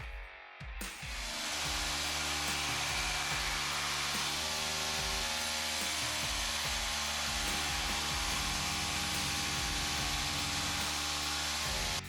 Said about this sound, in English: First off is the grinder.